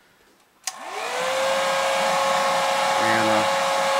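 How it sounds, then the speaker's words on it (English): A hair dryer heating a Martin D-28 guitar pickguard switches on with a sharp click and spins up into a steady, close, loud whirring blow that holds constant; a brief word is spoken near the start. "I use a hair dryer."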